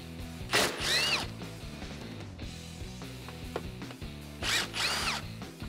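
A power tool zips out 10 millimeter grill bolts on a 2012-2015 Toyota Tacoma in two short whirring bursts, with ratcheting clicks and mechanical handling noise in between.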